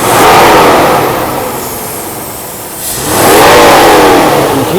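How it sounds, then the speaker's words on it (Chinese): A Mercedes W126 300SEL engine, just repaired, revs up loudly from idle, drops back to a lower hum, then surges again in a second strong rev, close by with no talking. "我们来加一次油看看。"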